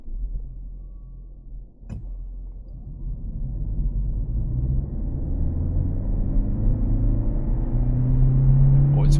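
A Renault Clio Hybrid 1.8 E-Tech 160 HP car pulls hard from a standstill at night, its engine rumble swelling steadily and holding loud as it gathers speed, heard from inside the cabin.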